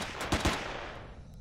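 Gunfire in the sci-fi survival game Empyrion Galactic Survival during a village raid: a burst of rapid shots with two sharper, louder reports near the start, fading into a lingering reverberant tail.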